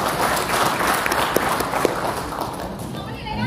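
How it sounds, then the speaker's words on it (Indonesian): Seminar audience applauding, a thick continuous patter of many hands that gradually fades toward the end, with a few sharper claps standing out near the middle. "Boleh tepuk tangan untuk Bapak Ibu semuanya ya"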